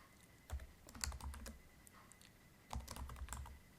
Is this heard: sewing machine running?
no